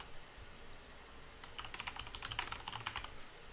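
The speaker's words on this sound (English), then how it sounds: "then we type in a password" Rapid keystrokes on a computer keyboard as a password is entered during a Windows Server 2008 domain controller setup in a VM lab, a brisk run of light clicks starting after a quiet pause and continuing to the end.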